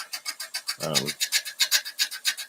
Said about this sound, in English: I'm using a regular chisel. It's not high-speed steel.